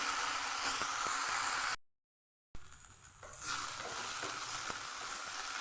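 Okra fries quietly in oil with a soft, continuous sizzle that briefly cuts out, then resumes at a steady level.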